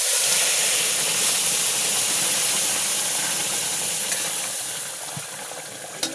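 Meat dropped into hot tempered oil for a home-cooked curry gives a steady, loud sizzle and hiss that holds throughout, easing slightly toward the end.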